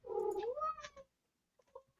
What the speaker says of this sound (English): This cat's going to drive me nuts.